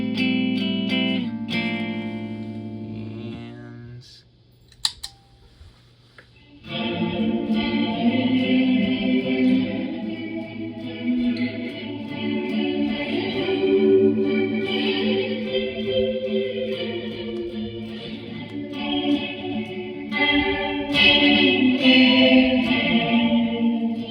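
Electric guitar runs through a shoegaze effects pedal set fully on, producing a washed-out, chorused and distorted sustained wall of chords with reverb after a few sparse opening notes.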